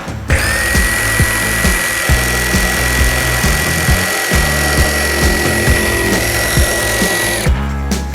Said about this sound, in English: Next, super sawzall.